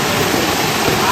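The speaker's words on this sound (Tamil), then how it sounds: "இதுதான் அந்த ஃபால்ஸு." Steady, loud rush of falling water at a waterfall near Puthur, a continuous broadband roar with no breaks.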